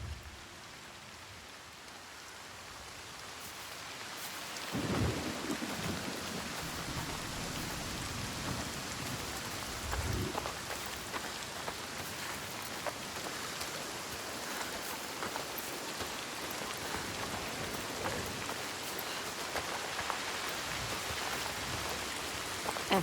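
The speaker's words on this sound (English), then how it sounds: "The rain never stops." Steady rain and rumbling thunder in the video game Senua's Saga: Hellblade II, a dense wash of downpour running throughout with a couple of deep thunder rolls around the middle, close and fairly loud with no talk.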